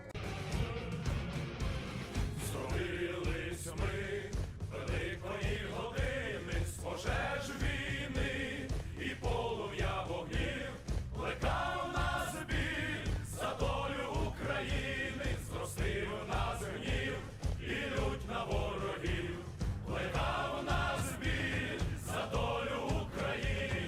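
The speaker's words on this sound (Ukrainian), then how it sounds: "А також існує спеціальний гімн Збройних сил України." A full band or orchestra plays the anthem of the Armed Forces of Ukraine, stirring and march-like, loud and steady throughout with brass and percussion accents.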